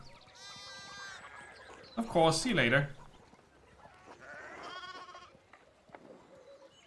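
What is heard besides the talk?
sheep bleating in the video game Pentiment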